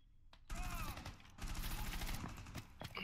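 Gunfire in the video game Rainbow Six Siege, two loud close bursts of rapid shots separated by a short pause, with a brief voice mixed in.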